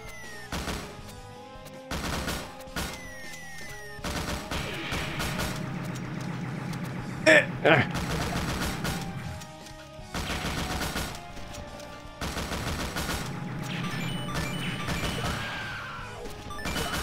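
Shotgun blasts ring out in Mushroom Kingdom Fusion, a series of sharp, loud shots in spaced clusters over a busy game background, with one especially strong crack midway.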